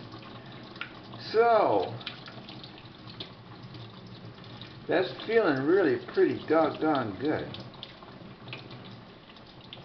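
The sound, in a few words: running tap water while cleaning a gourd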